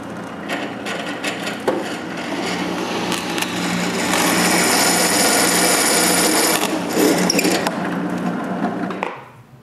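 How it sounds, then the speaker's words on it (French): A power drill bores holes through two pieces of wood glued together, with a few short bursts at first, then a long, loud, steady whine before it winds down and stops. "Je colle les deux morceaux ensemble et je perce les trous."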